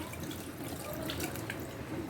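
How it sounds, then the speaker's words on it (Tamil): Tamarind water pours steadily into a pan for a couple of seconds, a close, continuous splashing trickle with no voices. "இப்போ இதிலே வந்து புளி கரைச்சி வச்சுருக்கேன் அதை சேர்த்துக்கலாம்"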